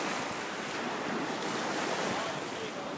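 Ocean surf at Sarasota beach, a continuous wash of breaking waves mixed with heavy wind buffeting the microphone, loud and steady throughout.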